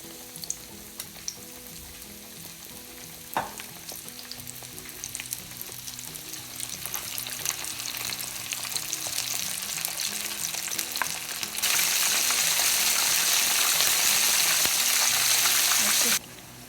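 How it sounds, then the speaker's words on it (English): Steady sizzling of pork belly frying in hot oil, crackling throughout and growing louder and denser near the end, with no talking. "All right, let's start frying our pork belly."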